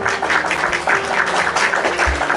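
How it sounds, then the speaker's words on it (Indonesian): An audience at a question-and-answer gathering breaks into applause, a loud close burst of many hands clapping in quick rhythmic patter that carries through the whole moment. "Tepuk tangan buat Firda yang cantik dan manis."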